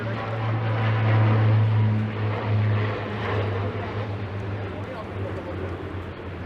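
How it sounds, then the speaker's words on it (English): A propeller plane takes off from Toronto's island airport on the lakeshore, its engine drone a loud, steady roar that swells and then slowly eases, heard outdoors from a city walk. "We've got a plane taking off from the island airport."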